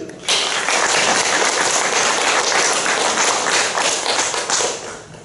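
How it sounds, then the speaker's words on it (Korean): Church congregation clapping steadily for three award recipients at a Korean Wednesday worship service, a dense, loud burst of many hands sustained for about five seconds. "오늘 상 받으신 분들은 아주 하나님 위해서 나라 위해서 분이 되신 분 세 분. 우리 박수 한번 쳐드리자."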